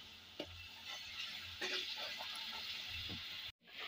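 Chopped onion and two bay leaves dropped into hot oil in a kadai give a steady close sizzle with a few stirring scrapes, cooking for a fish curry, ending abruptly.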